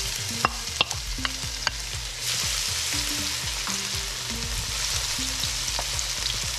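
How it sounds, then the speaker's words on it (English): Garlic dropped into warm cooking oil for Filipino laing: at about two seconds a broad, steady sizzle bursts up and holds to the end, with sharp utensil clicks and taps of stirring before and during it. "Now that the cooking oil is already warm enough, I'm going to add on the garlic."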